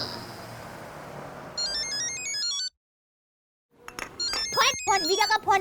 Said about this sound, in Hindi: फोन वीरा का फोन आया।